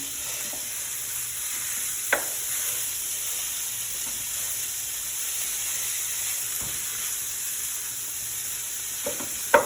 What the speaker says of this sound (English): going to break this up a little bit and let this begin to brown